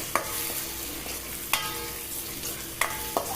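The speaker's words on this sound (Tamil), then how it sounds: "கொஞ்சமாக தட்டி வச்ச இஞ்சி அதையும் போட்டு நல்லா மிக்ஸ் பண்ணிக்கலாம்" Ginger and tomato stirring and frying in a pan for Madras-style fish gravy: a steady low sizzle broken by a few sharp spoon scrapes and clacks, close and fairly quiet, no voices.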